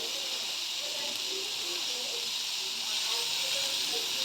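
Chopped tomato and eggplant frying together in a pan, a soft continuous hiss of sizzling oil heard close and fairly quiet, with no talk.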